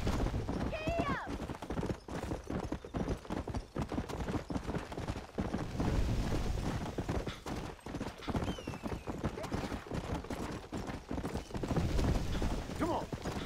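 Horse hooves galloping in the video game Red Dead Redemption, a rapid continuous clip-clop rhythm with shouted urging from a player over the game audio.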